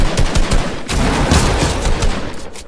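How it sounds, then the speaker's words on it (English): Pump shotgun blasts in a squad-fill shooter video game, several loud sharp shots in quick succession with dense gunfire over the whole short stretch. "you guys like that 8 damage pump shot?"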